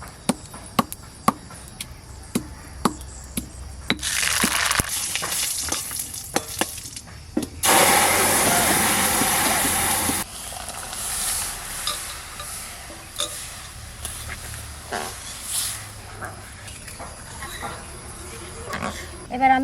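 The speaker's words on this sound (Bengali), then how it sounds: "সর্ষে ফোড়ন দেবো।" Mustard seeds and dried red chili hit hot mustard oil for tempering, giving a loud, steady sizzle and spatter lasting a few seconds. Knife taps and stirring come before it, with some talk nearby.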